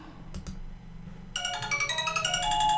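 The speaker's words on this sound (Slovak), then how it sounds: "To je telefonovanie." A telephone ringtone starts partway through, a bright repeating electronic melody that grows steadily louder over faint background noise and a couple of soft knocks.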